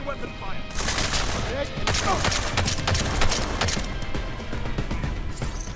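Gunfire in Deus Ex: Mankind Divided, dense rapid bursts of shots crackling loudly over a constant din of game noise, with voices speaking under the shooting.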